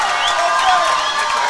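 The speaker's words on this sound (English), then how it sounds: "Lots of cheering, lots of yelling." A steady wash of cheering and yelling from spectators at a swim meet, loud and continuous with overlapping voices and a few shrill calls on top.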